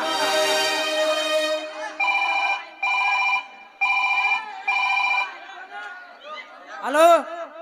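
A telephone rings in four evenly spaced bursts as a call is placed during a Kannada stage play, with a bright electronic ring. Voices talk and chatter before the ringing starts and again after it stops.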